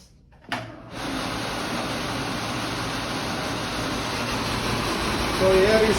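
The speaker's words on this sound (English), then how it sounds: "Now we will start the blower." An electric blower on a lab bench clicks on and spins up, then holds a steady, loud whirring rush of air being sucked in and discharged, a faint voice briefly heard near the end.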